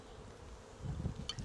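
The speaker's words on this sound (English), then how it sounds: "What sort of bees are these, Cedar?" Honeybees buzz softly around an opened hive during a hive merge, a low continuous hum with a brief louder pass near the end, outdoors and fairly quiet.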